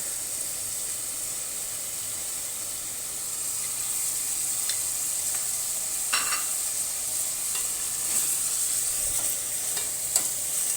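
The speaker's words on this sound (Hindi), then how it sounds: "5 मिनट तक, जब तक गोश्त का हमारा कलर वाइट ना हो जाए ना, तब तक हम इसको पकाएंगे" Meat pieces for Sindhi biryani cook in a pot with a steady, quiet sizzle and hiss, broken by a few soft stirring scrapes and small spits, with no voices.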